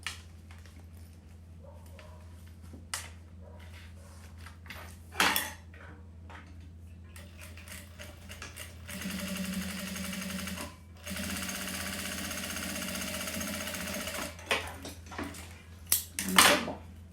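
Sewing machine topstitching a fabric wallet, running in two sustained bursts of rapid mechanical stitching, separated by a short pause and surrounded by scattered clicks and handling knocks at moderate, close level.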